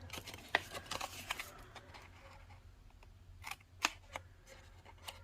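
Scissors cut through papercraft stock while making a Halloween easel post-it note holder, giving several faint, crisp snips that come in short, irregular bursts close to the microphone.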